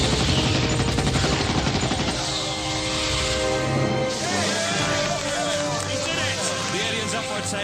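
Rapid bursts of heavy automatic aircraft cannon fire rattle over loud engine roar and battle noise, dense and continuous throughout.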